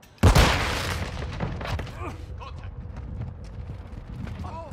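Grenade blast in the video game Call of Duty: Modern Warfare II, a sudden loud close boom near the start followed by a long decaying rumble, with faint gameplay sounds and voice chat underneath.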